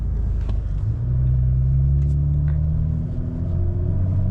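A BMW M340 with more than 500 hp drives at night, its deep engine rumble rising as it accelerates and then easing off, steady and close inside the cabin, with no speech.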